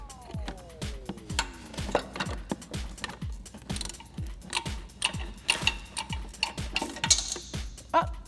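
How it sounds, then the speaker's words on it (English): A 16mm ratcheting wrench clicks steadily in rapid repeated strokes while loosening a shock absorber nut on a Jeep Wrangler JK, close and crisp with a brief metallic scrape early on. "now I'm just going to loosen up that nut with a 16mm ratcheting wrench and a 16mm open-ended wrench to hold the shock body still"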